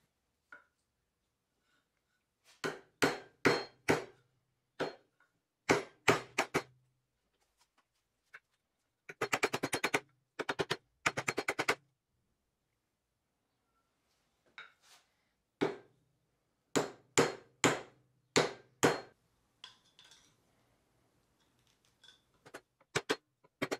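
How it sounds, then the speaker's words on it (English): Sharp metallic hammer blows strike a small machined metal part in bursts of rapid, closely spaced hits separated by quiet pauses, close and fairly faint with no talk. "I made a little piece here that's going to reinforce that while I'm hammering"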